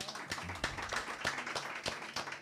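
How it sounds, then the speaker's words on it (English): A small virtual-event audience claps for a panel of guests, with a few sparse, uneven claps at a quick irregular rhythm, fairly faint and close to the microphone. "Let's give our panelists a round of applause."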